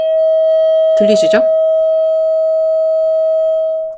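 A steady 639 Hz solfeggio-frequency sine tone sounds loud and continuous, and someone speaks briefly over it partway through.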